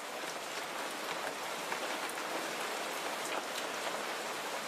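Steady rain pours through an Asian forest, a dense continuous hiss of drops falling on foliage and scaly ground, even and close with no voices.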